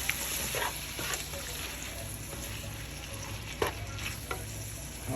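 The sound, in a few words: stirring cabbage cooking in pot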